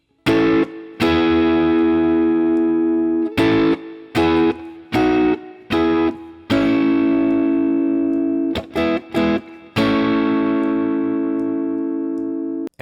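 Electric guitar playing the main riff of a song, a rhythmic pattern of short chord stabs and ringing sustained chords, clean and close with no talking.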